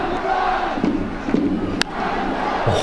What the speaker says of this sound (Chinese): 场边位前的这个板凳席， 大家起哄了